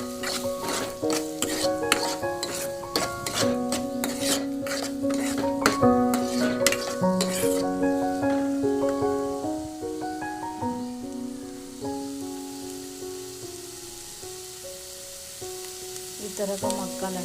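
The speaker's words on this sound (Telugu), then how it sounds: "ఇవన్నీ ఇట్లా ఫ్రై చేసుకోవాలి." Onions and vegetables for veg momo filling sizzle and fry in a pan, close and continuous, with a spoon repeatedly scraping and clinking against the metal in a brisk rhythm early on that then settles into steady sizzling.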